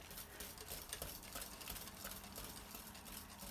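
Butter being stirred into hot, smooth pastry cream, making a soft, continuous scraping and swishing, close but faint and steady throughout.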